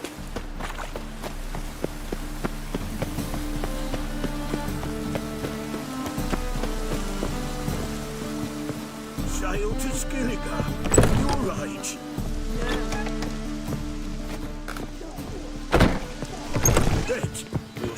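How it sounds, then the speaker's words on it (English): Steady rain hisses down in a rainy town scene from The Witcher 3 video game, a constant wash beneath voices talking, occasional thunks and footsteps, with brief swells in loudness. "Must be mad running around in this rain."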